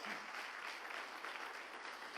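Congregation applauding for the Lord during a church sermon, a steady dense wash of clapping that holds at an even level throughout, with faint voices mixed in.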